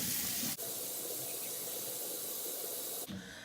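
Water running from a tap into a sink while teeth are brushed, a steady hiss that cuts out briefly near the start and again near the end.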